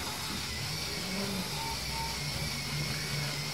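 A four-wheel drive vehicle, one of a Grenadier, Patrol, LC300 or Defender, climbs a very slippery slope, its engine a steady mid-pitched drone throughout with no talking.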